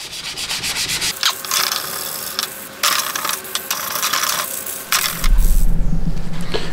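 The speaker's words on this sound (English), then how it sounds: "Start cleaning up the drawer slides here." Old dried grease being scrubbed off the drawer slides of a 1980s Craftsman rolling tool chest: repeated close, harsh rubbing strokes in bursts, ending in a faster rhythmic scraping run.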